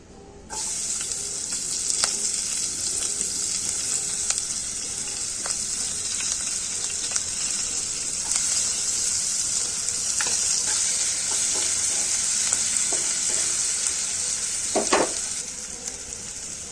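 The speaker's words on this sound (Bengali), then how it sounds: "গরম তেলে পেঁয়াজগুলো দিয়ে দিচ্ছি।" Onions sizzling and frying in hot oil in a pan for a light fish curry, a loud, steady crackle lasting throughout with occasional sharper pops and stirring clinks, no voices.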